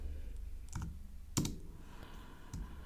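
Typing on a computer keyboard into Notepad while writing a first Java program, a few sparse soft key clicks close by with one sharper tap, quiet and unhurried.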